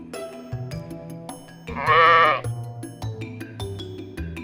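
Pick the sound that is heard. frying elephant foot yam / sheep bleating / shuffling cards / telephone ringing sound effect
sheep bleating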